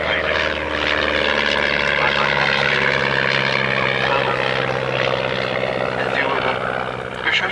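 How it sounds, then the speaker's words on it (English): A 1930s Miles Whitney Straight vintage propeller monoplane drones steadily nearby at Abingdon, its engine hum holding a constant pitch for several seconds, while people talk over it. "it's very nice to see this beautiful little aeroplane"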